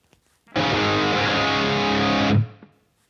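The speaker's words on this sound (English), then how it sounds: "let's give it a little bit more reverb" An electric guitar run through a Neural DSP Quad Cortex on a wet rhythm scene with added reverb plays one loud, sustained distorted chord for about two seconds, then cuts off with a brief reverb tail.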